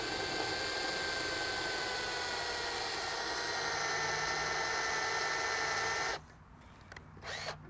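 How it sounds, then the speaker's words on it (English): A power drill bores a slightly larger screw hole in a homemade DSLR mount for a Nexus 7 or Android tablet, a steady loud whine running about six seconds before cutting off, followed by brief quieter handling noises. "So we're going to drill in a tiny bit bigger hole here."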